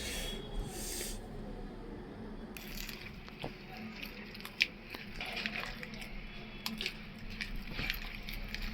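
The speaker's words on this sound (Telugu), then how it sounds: "ఈ విధంగా మనము బాగా అసలు ఉండలు లేకుండా కలుపుకోవాలండి" Rice flour punugulu batter being mixed by hand in a bowl with a little water, producing soft, faint, steady squishing and squelching with a few sharper taps, close by and quiet.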